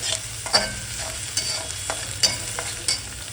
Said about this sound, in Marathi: आता आपण ह्याला गुलाबी कांदा करूया आता व्यवस्थित.